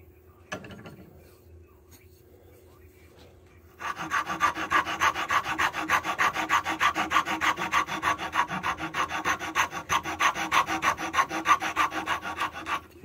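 A hand file rasps rhythmically against a wooden knife-handle dowel, cutting a taper in steady back-and-forth strokes that carry on close and loud after a brief quiet start.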